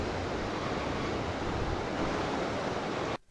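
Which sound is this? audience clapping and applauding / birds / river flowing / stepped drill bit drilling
river flowing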